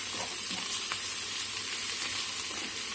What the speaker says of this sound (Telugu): ఇది మంచిగా ఇందులో కలిసి వేగాలన్నమాట